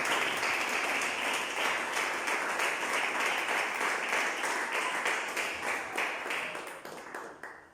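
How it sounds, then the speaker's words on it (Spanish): A church congregation at a concert bursts into loud, dense applause that carries on steadily, then thins into scattered individual claps before fading. "denle un fuerte aplauso a Cristo mientras ella viene a este lugar"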